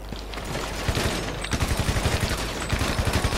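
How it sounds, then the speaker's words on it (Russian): Rapid bursts of gunfire in GTA Online during a Fleeca heist, starting sparse and becoming a steady run of close, loud shots from about the midpoint, with no talk over it. "Тут по мне стреляют как бы."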